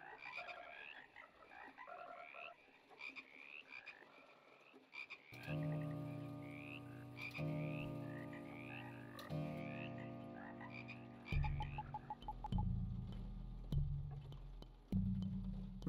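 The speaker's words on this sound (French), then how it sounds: "Il y a des bruits de grenouilles partout" Frogs croak all around in the video game House, with layered, rhythmic calls at varying pitches that swell louder and denser partway through.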